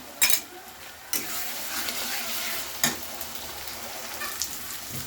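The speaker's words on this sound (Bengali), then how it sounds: "আমি এবার মশলাটা খুব ভালো করে কষে নিচ্ছি" Spice masala frying and being stirred in a pan for a katla fish head curry, a steady close sizzle with a few louder scrapes or clatters, no talk.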